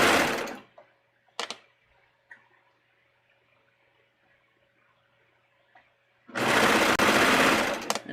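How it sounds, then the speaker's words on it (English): A sewing machine stitches a swimsuit seam in two loud, steady whirring runs, a short one at the start and a longer one at the end, with a quiet pause and faint handling clicks between them. "then we're just going to sew this"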